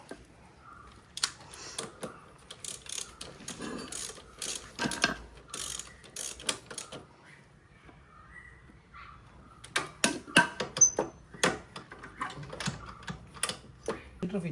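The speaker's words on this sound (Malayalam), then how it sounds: "അതിനുശേഷം കിക്കറിൻ്റെ 19 ബോൾട്ട് വെച്ച് ടൈറ്റ് ചെയ്ത് കൊടുക്കുക." A 19 mm spanner tightens the kick starter bolt on a Yamaha FZ V1 motorcycle, producing bursts of quick ratcheting metal clicks, close and crisp, in two clusters separated by a quieter pause.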